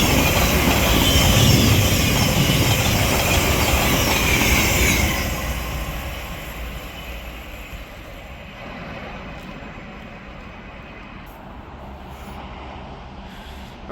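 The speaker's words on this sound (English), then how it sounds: "Arriving in now, we have a set of, I should stop saying set. We have 700-043 from Letchworth Garden City to King's Cross, St Pancras." A Class 700 train, unit 700-043 running from Letchworth Garden City to King's Cross, arrives at Hatfield station on the East Coast Main Line. A loud, steady rush and rumble close by eases after about five seconds into a quieter fading hum, with no talk.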